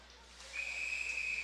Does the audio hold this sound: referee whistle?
yes